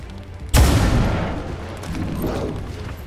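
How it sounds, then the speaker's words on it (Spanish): A pistol shot from the video game XCOM 2 lands as a single sudden loud blast, followed by a booming rumble that decays over a couple of seconds. "Primero, disparo pistola."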